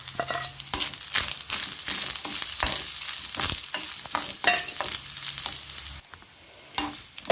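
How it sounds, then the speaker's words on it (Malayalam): Dried red chillies and curry leaves fry in hot oil for tempering, giving a continuous crackling sizzle with repeated scraping stirs, close by, and a brief quieter dip near the end. "കൂടെ ഒരു രണ്ട് മൂന്ന് വറ്റൽമുളകും ഒരു രണ്ട് തണ്ട് കറിവേപ്പില കൂടെ ഇട്ട് കൊടുക്കുക"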